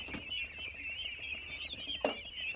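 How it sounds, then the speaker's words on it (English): Hundreds of small ducklings chirp on a farm in a dense, continuous high twittering chorus, with one sharper call standing out briefly. "Chen Honggong also bought hundreds of small ducklings"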